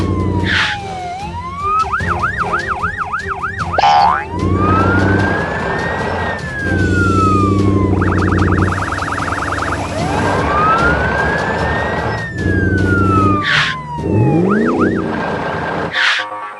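Cartoon sirens from a blue police car and a white ambulance wail and yelp in alternating rising and falling sweeps, loud and close, with a rumbling vehicle engine beneath.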